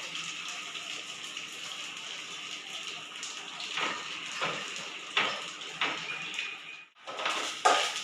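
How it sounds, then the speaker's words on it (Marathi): Semolina (rava) roasting in hot ghee in a pan, a steady soft sizzle and crackle with intermittent louder scraping stirs near the end. "त्याच्यात आता हा रवा मोकळा करून भाजून घ्यायचा"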